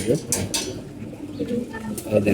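Pigeons kept by a fancier coo in a steady, low murmur at close range, with soft rustling and a human voice in the background.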